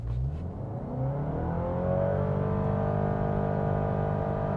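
Honda ZR-V launching hard from a standstill in sport mode, its engine note climbing steadily in pitch and loudness as revs rise, a continuous strained drone with no gear-shift breaks, heard from inside the cabin.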